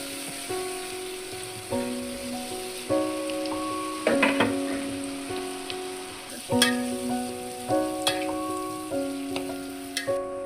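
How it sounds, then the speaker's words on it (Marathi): A paste of garlic, coconut and coriander fries in hot oil, crackling and spitting in bursts over a low sizzle, with occasional utensil knocks and steady tonal hum, no talking. "आता तेल गरम झालेलं आहे, त्याच्यामध्ये आपण लसूण आणि खोबरं, कोथिंबीर याची पेस्ट ॲड करू"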